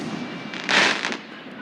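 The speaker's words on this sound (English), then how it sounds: "How many fireworks did they buy, bro?" Fireworks burst in a brief loud crackling cluster from moderately near, over a steady background hiss, with faint voices around.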